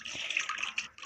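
Flowers being watered in the Toca Boca video game, a bright splashing, pouring water effect running steadily for about a second with brief flickers and a short dip near the end, alone without voices.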